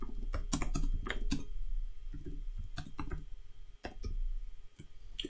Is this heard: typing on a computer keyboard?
yes